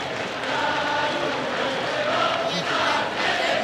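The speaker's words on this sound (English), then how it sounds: "Cheer squad." A cheer squad of Giants fans chants in unison at a Japanese baseball game, heard as a sustained, somewhat distant roar of massed voices in the stands, rising and falling slightly.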